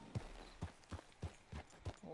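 Horse hooves clip-clop in the Red Dead Redemption 2 video game, a steady, evenly spaced walking beat of about six soft thuds, quiet and fairly close, with faint voices in the background.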